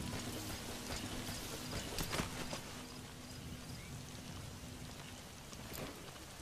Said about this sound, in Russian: Опаньки, дождь, найс.